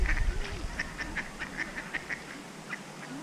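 Ducks on the water give a run of short nasal quacks in a loose rhythm, fairly close and moderately loud, with a low rumble at the start.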